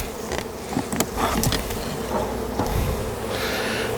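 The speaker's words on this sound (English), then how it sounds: "so there are bees here, which is good. Plenty of bees" Honeybees buzz loudly and continuously at an open beehive, a dense swarming drone close by with occasional sharper passes and light clicks from handling the hive.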